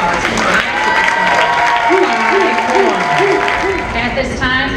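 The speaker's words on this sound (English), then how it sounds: "Please give another round of applause" A crowd claps at a fifth grade promotion ceremony, steady applause running under voices and cheering throughout, with some musical tones drifting through the mix.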